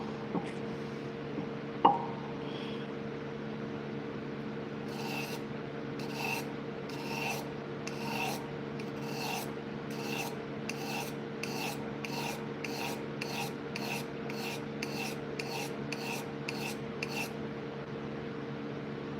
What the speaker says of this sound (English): On sandpaper. See, I can't think and sharpen at the same time.